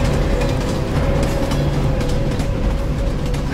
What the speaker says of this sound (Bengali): আবারও ছুটে আসছে দুরন্ত গতির ট্রেন, ঝমঝম শব্দ তুলে